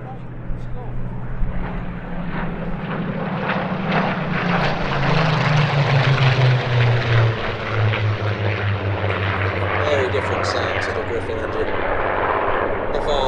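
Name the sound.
Supermarine Spitfire FR-14 aircraft taking off at airshow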